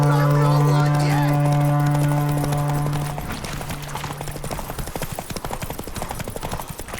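Horse hooves clip-clopping in The Witcher 3, a steady rhythmic patter that emerges after a sustained musical tone fades, continuing under battle noise and game sounds.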